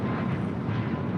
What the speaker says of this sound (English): That Latam Dreamliner, next departure here on the south side